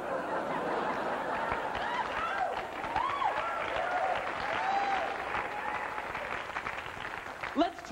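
A theater audience at a 1987 HBO stand-up comedy special applauds in a dense, steady wave of clapping, with some scattered laughter and a voice cutting in near the end.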